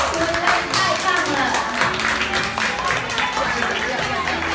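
Applause at a children's clothing studio fashion show in a crowd, with dense clapping and scattered claps and taps filling the room at steady loudness, mixed with background voices.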